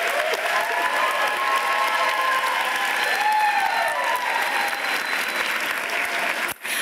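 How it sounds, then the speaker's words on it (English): Audience applause at the Middlesex Community College 2023 commencement, a sustained, even wash of many hands clapping from a large crowd, steady throughout and ending in a short gap, with a faint voice heard partway through. "Can we give a round of applause now to our STEM majors?"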